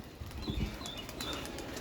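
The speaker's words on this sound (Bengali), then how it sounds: "ধরার আগে আগে কিছু কবুতর উড়াল দিছে আর কিছু কবুতর বাকি আছে যাও সবাই দাও উড়াল" Pigeons lift off with a short burst of flapping wings close by, and soft cooing sounds in the background.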